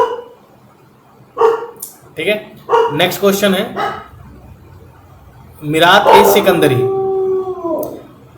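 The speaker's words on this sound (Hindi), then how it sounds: "कुत्ते भौंक रहे हैं" Dogs bark and howl outdoors in the background, short barks followed by a long drawn-out howl near the end, all under someone speaking close by.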